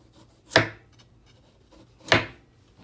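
A knife chops through a tough, hard-to-peel vegetable being prepared for Jamaican chicken soup, giving two separate sharp cutting strikes about a second and a half apart, close and fairly loud with quiet in between.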